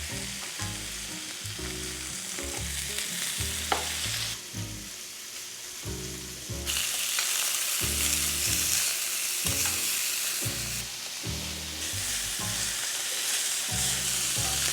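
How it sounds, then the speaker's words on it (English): Pork ribs fry in vegetable oil in a pan with a steady, loud sizzle, joined by frequent clattering stirs and scrapes. The level jumps up partway through and stays busy to the end, with no talking. "Add the vegetable oil and place the ribs into the pan. Cook them until the ribs are golden brown on both sides."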